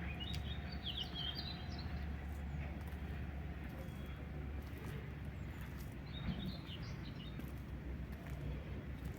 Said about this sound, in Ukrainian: Пташки хочуть більше розказувати, ніж я.